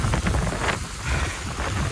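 Strong wind gusts during a snowstorm in Toronto roar and buffet a microphone as steady, loud rumbling noise with no speech.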